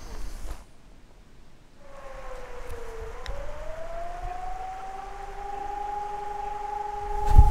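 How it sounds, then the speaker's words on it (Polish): Outdoors near Liberec, a civil-defense-style siren starts suddenly and winds up into a steady, rising wail, heard from a distance over faint ambient noise. "Ale dziwne w ogóle, że w takim akurat miejscu syrena nagle zaczyna być."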